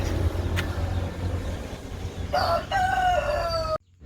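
A rooster crows loudly over a steady low rumble of background noise, its drawn-out call wavering before the sound cuts off abruptly.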